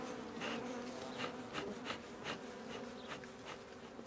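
A swarm of bees drones steadily and close by, a continuous low buzz that swells and fades slightly throughout, with no voices.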